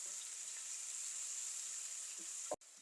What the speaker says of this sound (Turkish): Hafiften şöyle hepsini soteliyoruz.